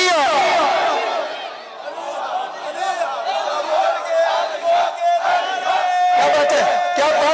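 A crowd at a religious gathering in Bahawalpur chants the slogan Naara-e-Haidari, close and loud. A lead voice calls out and massed voices answer in rising, repeated shouts.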